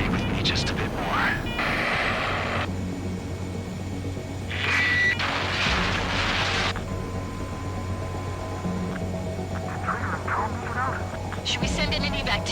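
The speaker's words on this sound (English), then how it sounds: "Attempting to land. I don't think my plane will make it." A fighter jet tries to land during a mission in the Ace Combat 7 video game. A steady engine hum and drone runs throughout, with radio-style voices and brief bursts of game effects over it.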